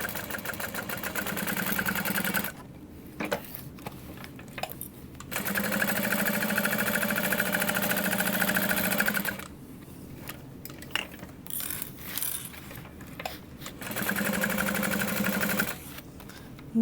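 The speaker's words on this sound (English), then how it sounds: "Back stitching at that pocket." A sewing machine back stitches a pocket on a sling bag, running in three sustained bursts separated by short pauses and quieter mechanical clicks, close and fairly loud with no talking.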